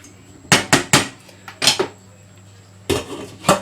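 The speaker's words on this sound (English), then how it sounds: "Break up all the lumps with a wooden spoon or a fork, whatever you have to hand." A wooden spoon breaks up browning mince in a pan, making several distinct knocks and scrapes in short clusters separated by brief quiet gaps, close and fairly loud.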